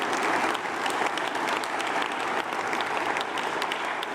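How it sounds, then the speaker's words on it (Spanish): Sustained applause fills a political rally marking the first annual report of Mexico's president, steady dense clapping from a large crowd throughout, loud and continuous with no voices standing out. "Un aplauso a toda esta gran estructura preciosa y hermosa."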